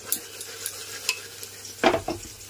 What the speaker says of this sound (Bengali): ডালটা মশলাটা সব কিছুকে একটু হালকা ভেজে নেব